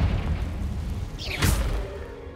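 A spell blast in Hogwarts Legacy, a single sharp boom with a whooshing burst about midway through, set against ambient game noise.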